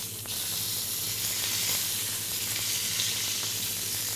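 Fillet steak sears steadily in a hot pan, a continuous close sizzle and hiss with a faint low hum beneath and no talking.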